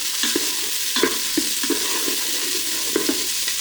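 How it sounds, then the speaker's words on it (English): Onions frying in a Ninja Foodi, a constant bright sizzle with repeated scraping knocks from a wooden spoon as they are stirred, close and clear with no talking. "Right, now we're starting to sizzle"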